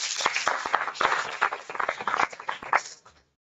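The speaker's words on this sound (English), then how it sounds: "Please welcome him with a huge round of applause." An orientation audience applauds to welcome a speaker, a dense spread of claps lasting about three seconds before fading out abruptly.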